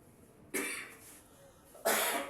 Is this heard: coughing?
yes